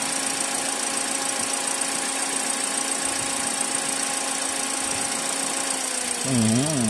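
Refrigerator compressor running with a steady electric hum and whine, constant and close, before a wavering warble breaks in near the end.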